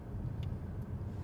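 A Volvo S60 T5 steering itself through a curve at about 40 km/h, heard as a steady low road and engine rumble from inside the cabin, with nothing standing out above the hum.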